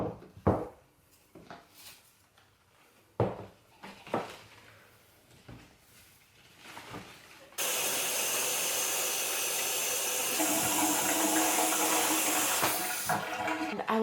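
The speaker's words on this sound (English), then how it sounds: "bring them in my bathtub and water them and kind of get the dust off of them all" Water runs steadily into a bathtub where houseplants are being washed, a loud continuous rushing stream starting partway through after a stretch of scattered knocks and handling noises.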